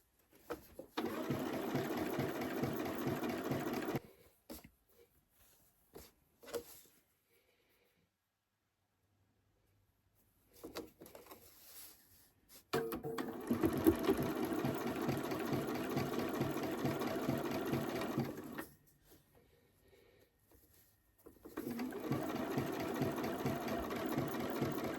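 Domestic sewing machine stitching quilt seams for a beginner's quilt, running in three steady bursts of rapid mechanical whirring separated by pauses with faint handling clicks, close and alone with no talk.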